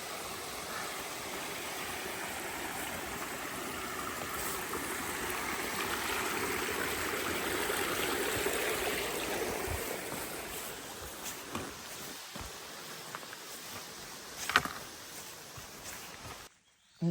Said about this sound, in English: You step over these stones and the water continues down.